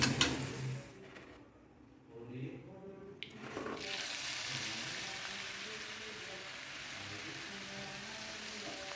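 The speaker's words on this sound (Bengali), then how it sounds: "আলু ভাজা করছি" Potatoes frying in a pan at home, a steady close sizzle running through the clip with brief stirring, and someone talking quietly at the start.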